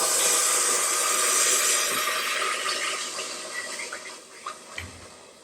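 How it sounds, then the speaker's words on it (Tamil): Butter chicken gravy boiling in a pan, a loud, close, continuous bubbling hiss that fades a little toward the end, with a few soft knocks and no talk. "எப்படி கொதிக்கும்னு கேட்டே இப்படிதான் கொதிக்கும்."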